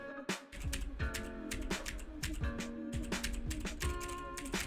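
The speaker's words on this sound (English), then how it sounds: "type on your keyboard, and as you can see here when I'm typing that the microphone picks up the sounds" Typing on a computer keyboard picked up by a desk microphone, with a quick, uneven run of sharp key clicks close to the mic over a faint steady hum.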